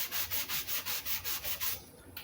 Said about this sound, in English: as thick as this dye is, I don't think it matters how you sand it